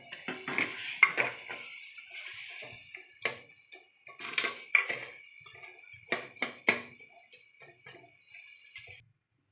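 Fish curry is stirred in a clay pot with a spoon, giving irregular scraping clinks and knocks, some sharp and close, spread over several seconds with quiet gaps between them.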